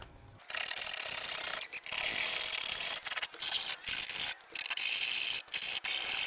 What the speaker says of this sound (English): I'm gonna file down these high points